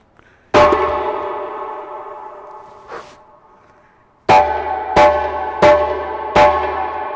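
Djembe solo tone, the drum's loudest strike, played close and alone: one ringing hit, a softer tap, then a pause before four quick loud strikes in a row, each bright and decaying with lingering ring.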